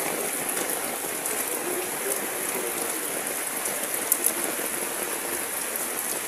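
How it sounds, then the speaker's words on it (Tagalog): Heavy rain pours in a dense, steady roar that stays at a constant loudness, with a couple of brief clicks partway through and no voices. "So, sobrang lakas ng ulan."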